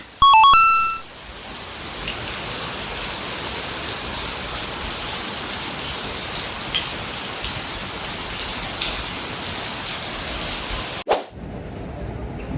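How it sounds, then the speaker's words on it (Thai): Heavy stormy rain pouring down in Singapore, a loud, constant hiss of downpour that holds steady throughout, with a brief electronic beep tone near the start and a sharp crack or knock near the end. "ฝนมาเป็นพายุเลยตอนนี้"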